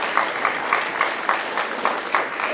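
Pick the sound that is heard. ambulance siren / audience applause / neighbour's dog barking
audience applause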